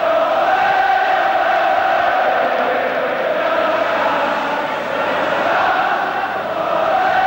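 A 1988 Liverpool v Arsenal football crowd roars steadily after a goal, a dense, sustained wash of cheering from a large stadium audience that holds loud and even throughout with no distinct voices standing out.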